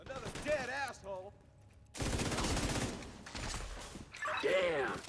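Bursts of gunfire from The Division video game, sharp broadband volleys crackling loudly in the middle stretch, with game voices and tonal chatter before and after.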